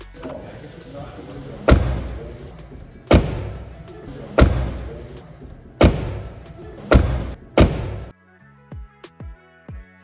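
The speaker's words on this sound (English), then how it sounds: "the sound of the door closing is a bit more solid compared to the previous Model Y" A 2025 Tesla Model Y car door shuts with a solid thud six times in a row, evenly spaced, followed by a few lighter taps and clicks at the end.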